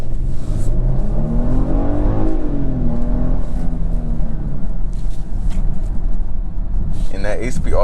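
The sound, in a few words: 2022 Genesis GV80 accelerating hard in sport mode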